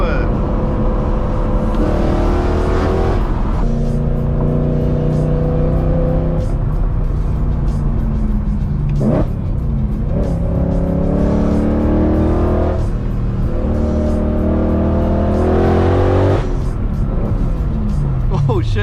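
A BMW E90 M3's V8 engine revs up and down repeatedly on a canyon drive, a loud, steady drone from inside the car with rising and falling pitch sweeps.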